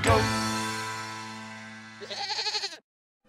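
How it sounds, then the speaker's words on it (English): A goat bleating sound effect: one long, loud, wavering bleat that fades slowly, then a rapid quavering tail before it cuts off abruptly. "It's a five-legged goat."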